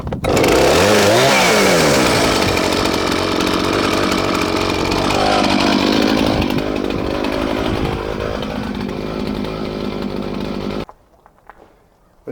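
Small engine on a firewood chainsaw, started on choke, sputtering and revving loudly up close in uneven bursts for about eleven seconds before it cuts out into near silence.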